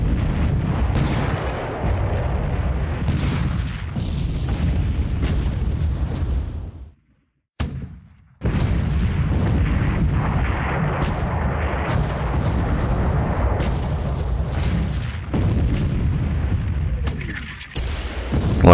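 Naval gunfire between warships in the video game War Plan Orange, a battleship and cruisers closing for combat: heavy booming salvos and bursts that pile up almost without pause, broken by one brief silent gap, then the barrage resumes.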